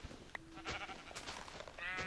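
Sheep in a survival video game bleat a few times over steady ambient game background, moderately clear and close.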